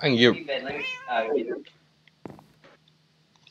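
A cat meows in the video game Minecraft while someone talks close over it. One or two short meows sound partly under his voice, followed by sparse faint game clicks.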